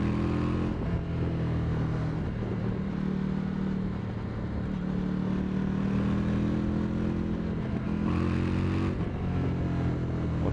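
An Indian FTR motorcycle accelerating hard to overtake, a continuous, close, loud engine drone with rising revs.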